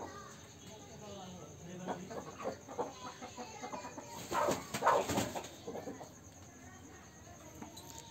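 Caged Asil roosters cluck in a poultry setup, with short, busy bursts that grow louder near the middle. A person talks over the birds throughout.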